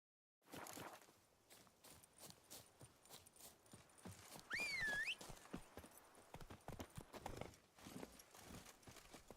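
Roach, a horse in The Witcher 3: Wild Hunt, clip-clops along in a quick, steady hoof rhythm that starts after a brief silence, with a short whinny in the middle and continuous game ambience underneath.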